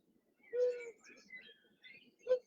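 A human voice imitates a bird call alone: a drawn-out whistled coo, a few softer warbling notes, then a short sharp final call, close and clear against silence.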